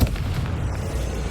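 A Confringo blasting spell goes off in Hogwarts Legacy, a loud, deep boom at the start that rolls into a sustained low rumble without any voices.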